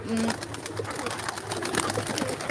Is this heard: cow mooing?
no